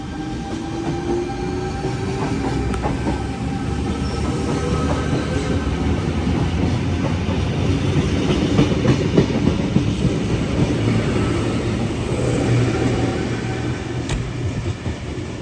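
A Sydney Comeng V Set electric train passes close by for a sustained stretch, wheels clattering over the rail joints beneath a loud, steady roar, with brief higher squeals and no one speaking.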